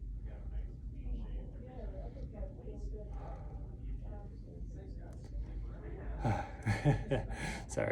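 Heavy, labored breathing from a person catching their breath between handstand strengthening workout sets, steady gasps and exhales close to the mic, growing louder and sharper toward the end.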